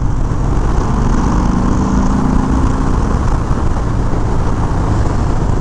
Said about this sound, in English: it's also a stock exhaust, so it's not going to sound really loud.